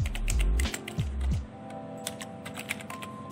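Close, quick keystrokes on a computer keyboard tap out a card name in short irregular bursts, with a low thump at the start and no voices.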